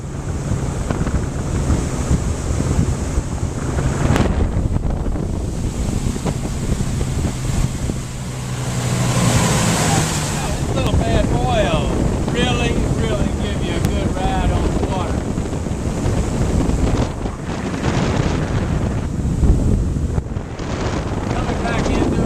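A 2003 Sea Ray 240 Sundancer cruiser with a GPS plotter runs across open water, its steady engine drone mixed with splashing hull noise and heavy wind buffeting on the microphone throughout.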